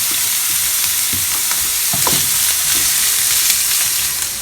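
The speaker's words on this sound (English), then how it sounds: "These onions are sauteed now." Onions and vegetables sauté in hot oil for peppery tofu, a continuous close sizzle with scattered crackles and the scrape of stirring, no voices.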